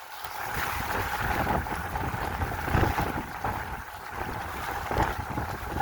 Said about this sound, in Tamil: விரைவாக போக முடியாது, அவ்வளவு காற்றும் இந்த கடலும் வந்து நடந்து போகலாம் இருக்கு